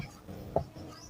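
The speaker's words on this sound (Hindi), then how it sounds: "पहला वाला यहाँ पे लिखता हूँ" A single short stroke of writing on a board during a lesson, a faint scrape lasting a fraction of a second in a quiet room.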